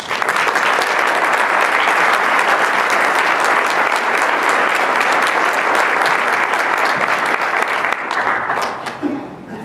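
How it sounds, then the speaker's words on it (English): Loud, dense applause from a luncheon audience at a United Way recognition event, steady clapping from many hands sustained for about eight seconds before tapering off quickly. "Please join me in giving these organizations a round of applause."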